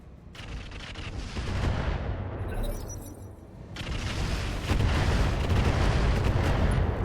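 Mech weapons fire in a RogueTech BattleTech mod battle against tanks, a dense, continuous barrage of heavy shots and booms that builds and stays loud throughout.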